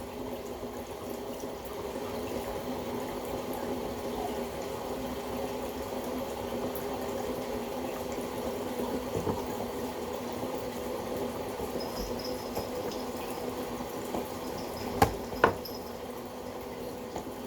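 Hot water for rinsing pu-erh teaware flows in a steady, soft, continuous pour with a faint bubbling hum, ending in a couple of sharp clinks near the finish.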